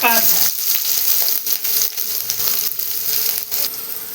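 Chilli and chopped onion fry in a pan for Maggi noodles, a loud, bright sizzle with small clicks and scrapes of stirring running throughout, no voices.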